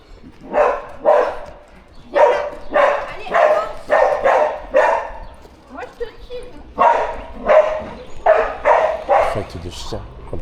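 A dog barks in repeated bursts, groups of sharp woofs and yips separated by short pauses, loud and close, with some whimpering between barks.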